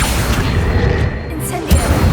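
Series of cast spells in Hogwarts Legacy, including fire, levitation and summoning charms, land as booming bursts and thuds in a dense game soundscape, with a sharp pop near the end.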